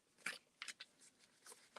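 Tarot cards are shuffled in quick, soft papery bursts, several brief swishes spaced irregularly, faint and close, with no voices.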